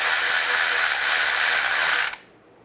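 A ratchet tightens a bolt on the timing chain cover of a 2007–2013 Chevy Silverado with a close, continuous rapid clicking for about two seconds before it stops abruptly.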